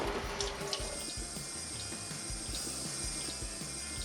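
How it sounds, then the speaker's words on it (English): Water runs steadily from a kitchen tap while hands are washed during cupcake making at home, a faint continuous splashing rush that goes on without a break. "Time to wash your hands."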